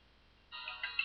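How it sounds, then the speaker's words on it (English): A short burst of an electronic phone ringtone starts suddenly, bright tonal beeps, fairly faint and quick, with nothing else around it. "That is my phone ringing."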